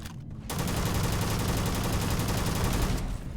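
Sustained automatic gunfire in Starfield, a dense, loud, unbroken rattle of rapid shots lasting about three seconds after a short lead-in.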